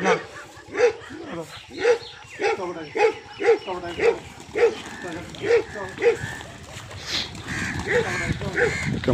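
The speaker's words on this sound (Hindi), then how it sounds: "फाइनली एक डेरे पे कुत्ता आ चुका है जी।" A dog at a rural compound where pigeons are kept barks in a steady, repeated series of sharp, fairly close barks about a second apart, with people talking over and between the barks.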